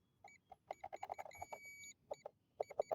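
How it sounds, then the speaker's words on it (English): A Walmart microwave being smashed apart still beeps, bursts of short electronic tones in quick irregular runs with brief pauses, close and clear. "You still hear it beeping."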